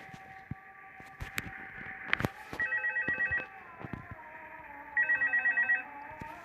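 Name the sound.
telephone ringing in a video game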